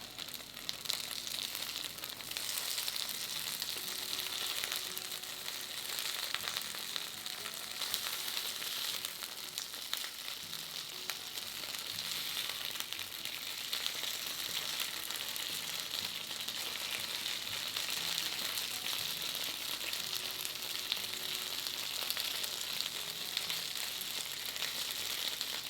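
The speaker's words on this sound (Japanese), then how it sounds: "ごま油を入れたフライパンで両面をこんがりと焼いて" Daikon mochi fry in sesame oil in a frying pan, giving a steady, close crackling sizzle with fine popping and spitting that carries on evenly throughout.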